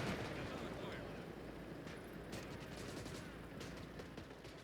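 Machine gun fire in Call to Arms: Gates of Hell rattles in dense bursts amid distant explosions and battle noise, heard faintly with people talking over it.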